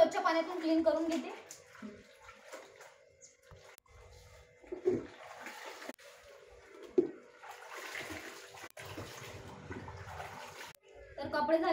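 Clothes being rinsed by hand in clean water produce intermittent splashes, sloshing and wet squeezing sounds at close range, broken by quieter gaps and a few sharp knocks, with faint birds and voices in the background.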